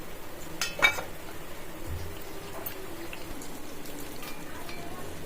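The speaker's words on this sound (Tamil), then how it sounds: "நெய் ஊற்றிக்கிட்டு பொடியாக கட் பண்ணி வச்சிருக்க முந்திரி அதோட சேர்த்துடலாம்" Finely chopped cashews fry in ghee for a sweet made with flattened rice and coconut, giving a steady soft sizzle with a few light clinks of a utensil against the pan.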